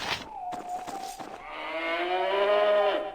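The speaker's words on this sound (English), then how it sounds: "Cow, moo, in dialogue." Cow lowing in the Icewind Dale video game: a long, loud, drawn-out moo with a wavering pitch follows a few brief clicks and scuffs.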